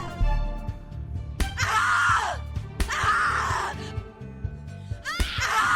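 A person screams in long, loud, anguished bursts in the horror game The Cat Lady, three separate cries with pauses between them over low ambient game sounds.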